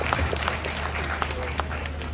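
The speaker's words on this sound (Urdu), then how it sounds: "تو خصوصی تالیاں ان کی پوری فیملی کے لیے" Audience applause at the launching ceremony for Blue World City Sports Valley in Islamabad: steady crowd clapping at moderate volume with a low hum underneath and faint voices mixed in.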